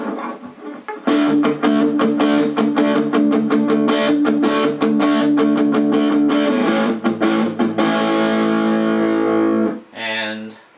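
An electric guitar through a Roland Cube 15XL amp on its distortion channel, gain set in the middle, rings out in a run of distorted picked notes and chords that holds steady before a final sustained chord fades.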